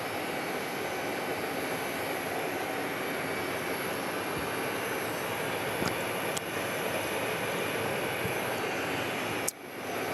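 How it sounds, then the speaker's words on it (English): A British Aerospace 146 regional jet used for fire suppression roars steadily at an airport, a continuous broadband engine rumble and hiss lasting the whole stretch at moderate level. "that is a British Aerospace 146"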